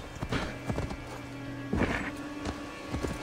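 Horse hooves clip-clopping in the game Assassin's Creed Valhalla, a few uneven clusters of hoofbeats over a steady low game ambience, with a brief whinny-like burst near the middle.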